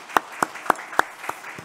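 Sparse, distinct hand claps in a Korean Sunday church service, about six sharp claps at a slow, even rhythm, close and fairly loud, with the last ones fading.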